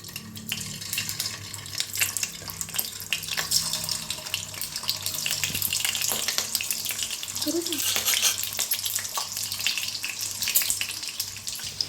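Eggs fry in hot oil in a pan with a steady, bright crackle and sizzle lasting throughout, with occasional louder spatters and faint kitchen clatter underneath.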